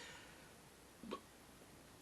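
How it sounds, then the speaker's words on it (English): A single faint hiccup, with a second quick catch at the end, comes from a person after eating hot Yellow Scotch Brain pepper powder, set against a quiet room. "And I got the hiccups."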